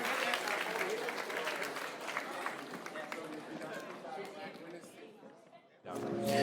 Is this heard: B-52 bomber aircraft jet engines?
no